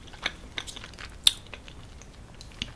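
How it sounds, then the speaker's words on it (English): Close, quiet chewing of creamy tortellini pasta with bacon, cheese, peppers and sweet corn, with sharp crunchy bites of vegetables scattered irregularly through a short stretch, no talking. "all the crunch of the veggies"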